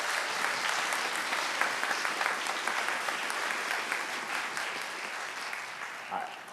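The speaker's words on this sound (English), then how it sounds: "Let's give another round of applause" At a high school spring band concert, the audience gives a sustained round of applause, dense clapping from many hands that holds steady and then gradually thins toward the end.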